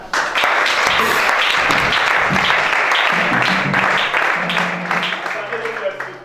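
A church congregation at a deliverance service applauds loudly and continuously, dense clapping filling the space before gradually thinning out, with voices talking under it toward the end.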